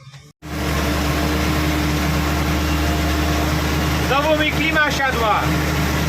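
A low, steady Ursus 1014 tractor engine drones at idle without letup, with a brief rising whine near the end.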